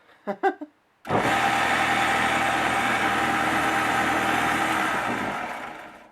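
A repaired motor whirs up abruptly after a few brief knocks and spins fast in a loud, steady high whine, then begins to wind down at the end.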